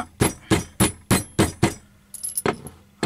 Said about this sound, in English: Give it a smack down with the hammer.